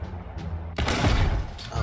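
A tank's main gun fires in War Thunder, aboard a German Sd.Kfz. 234 Puma armored car: a low rumbling engine bed is broken by one sudden loud broadband blast that rolls and echoes before fading.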